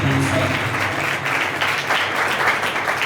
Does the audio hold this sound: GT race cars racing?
no